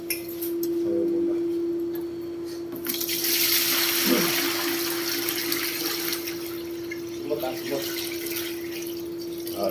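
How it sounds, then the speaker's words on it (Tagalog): Water is poured from a bucket into a pail while weighing for a water meter calibration, making steady splashing and trickling over a constant mechanical hum. "sasalin muna natin yung laman ng bucket na tubig sa timba para makuha natin yung tare weight ng bucket"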